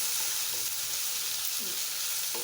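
Spice paste sizzles steadily with pieces of chicken in a hot pan, a dense continuous hiss with occasional soft stirring scrapes, close and even throughout.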